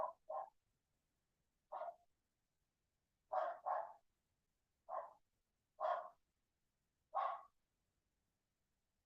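A dog barks in short, sharp bursts, mostly single and occasionally doubled, spaced a second or two apart against near silence, fairly close and clear.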